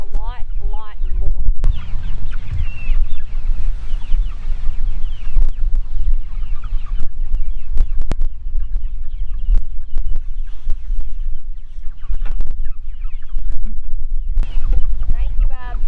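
Poultry cluck and chatter throughout, several birds close by over a low rumbling background, with occasional sharp knocks.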